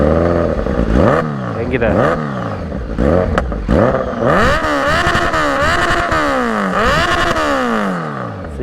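A Kawasaki Z900 motorcycle engine revving repeatedly, loud and close, with rising and falling sweeps of its exhaust note in short bursts, and someone speaking briefly over it.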